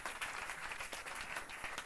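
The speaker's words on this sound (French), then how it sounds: "On va déjà les applaudir une dernière fois, s'il vous plaît, tout le monde." Brief, faint applause from a conference audience thanking round-table speakers at a strength sports event, a soft scattered patter of clapping heard from a distance.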